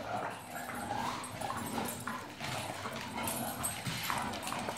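A big dog whimpering and yipping close by while playing with a one-year-old boy indoors, soft whiny vocal bursts over steady background noise.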